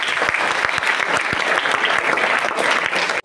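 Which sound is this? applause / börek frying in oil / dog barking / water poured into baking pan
applause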